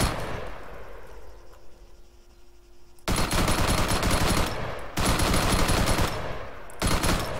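Long, sustained bursts of automatic rifle fire crack out in Arma 3, three heavy volleys separated by brief pauses, loud and close after a quieter opening stretch.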